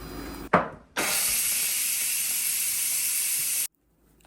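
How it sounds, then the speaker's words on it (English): A multi cooker's steam release button clicks, and a loud, steady hiss of escaping steam follows for nearly three seconds before cutting off abruptly. "I can select cancel and then reach for the steam release button"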